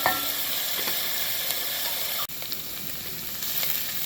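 Peppers and onions fry in a pan with a steady, close hiss and crackle, broken by one brief dropout midway, with no voices.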